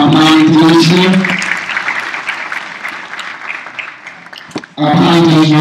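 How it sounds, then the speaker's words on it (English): Applause rings out at the opening ceremony of the Tanzania International Model UN 2020 after a speaker's voice, then fades gradually before speech resumes over a loudspeaker. "another round of applause to our planning commission"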